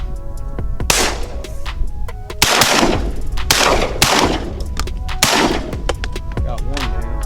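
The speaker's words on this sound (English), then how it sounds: "somebody from the back shoot" Shotguns fired by a group of duck hunters shooting at teal: several loud, booming blasts close by, irregularly spaced over a few seconds, with faint voices and outdoor noise between shots.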